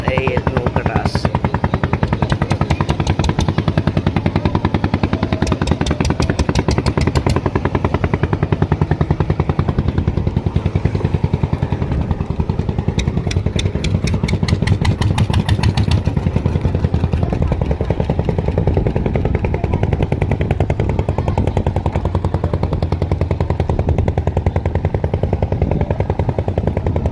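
Motorized country boats on the Ichamati river, a steady loud rattling engine chug with rapid clattering pulses that run continuously throughout.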